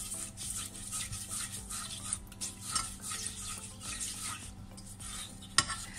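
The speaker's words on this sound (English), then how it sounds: "Stir it together until everything mixes." A spoon stirs a brown sugar boba mixture in a pot, giving soft, continuous scraping and swishing with a few light clinks against the metal, plus one sharp tap near the end.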